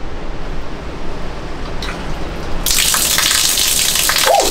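Water pours from a waterfall-style shower in a spacious mountain bathroom in Ella, Sri Lanka. A low hiss builds into a loud, close, continuous rushing gush once the flow opens up, with no talking.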